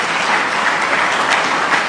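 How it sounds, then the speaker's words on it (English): A gathering's audience bursts into dense, steady applause celebrating a doctor, brief and loud with continuous clapping throughout. "Let's celebrate him with a big round of applause"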